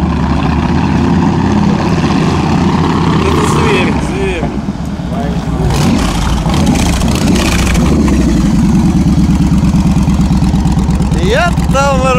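A motorcycle engine runs loud and close, idling with a rough, throbbing beat and a few revs, while several people talk and exclaim over it throughout.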